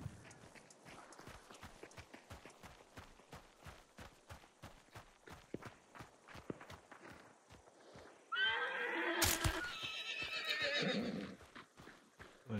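A horse in the Hunt: Showdown 1896 game gallops with a steady, rapid clip-clop of hooves, then lets out a loud, close whinny near the end. No one talks over it.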